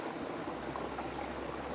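Water of a stream flowing near the headwaters of the Yea River on a spring morning, a steady, continuous broadband rush and trickle with no talk over it.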